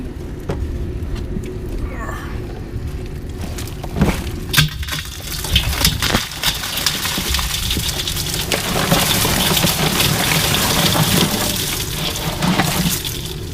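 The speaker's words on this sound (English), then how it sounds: "So we'll go ahead and pour this water out" Water poured out of a container of soaking crawfish during a Louisiana-style crawfish boil outdoors, a steady rushing splash that builds and continues over several seconds, with talk at the start.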